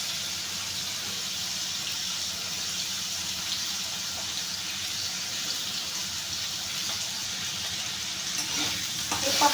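Diced potato frying gently in a little oil for sabudana khichdi, a steady soft sizzle running throughout with occasional faint stirring scrapes, fairly quiet and alone.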